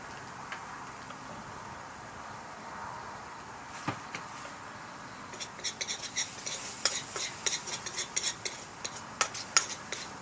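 Beef meatballs with holy basil are stir-fried in an electric pan, with a quiet sizzling hiss at first and then busy scraping and clattering from a utensil against the pan, growing denser and louder toward the end.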